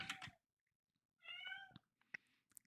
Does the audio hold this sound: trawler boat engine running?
no